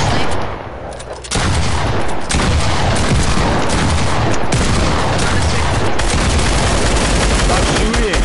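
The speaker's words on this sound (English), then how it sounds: "Stop shooting!" Sustained dense gunfire from an airsoft or paintball-style sniper shootout, loud and continuous with rapid overlapping shots and bursts throughout, a brief dip early on before the barrage resumes.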